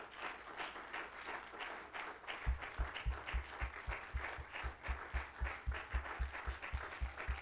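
A church congregation breaks into sustained applause and cheering, joined midway by a steady, rhythmic low thumping beat that continues under the clapping.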